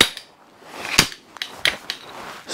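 A sharp, snapping release of a crossbow shot from a high-draw-weight crossbow (around 120–130 lb limbs) followed by a couple of lighter mechanical clicks and taps, close by.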